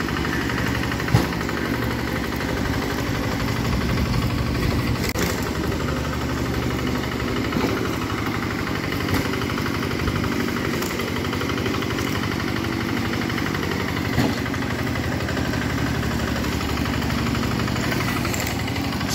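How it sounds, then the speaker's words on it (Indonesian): A continuous rumbling engine of a vibratory baby roller compacting asphalt, with a dense mechanical vibration, steady and loud throughout, with no voices. "Pemadatan menggunakan mesin baby roller full vibro."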